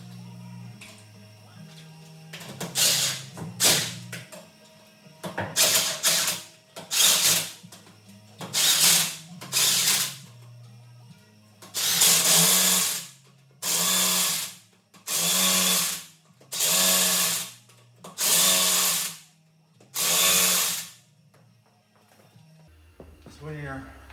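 A power tool drives lug nuts on a Chevrolet Silverado 1500 wheel during a tire rotation, about ten short bursts of buzzing whir with pauses between, close, over a low background hum.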